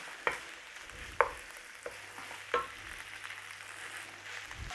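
Beef mince, barley and onions sizzle and fry in a skillet under a steady hiss, with a few sharp scrapes and knocks of a utensil as the mixture is stirred.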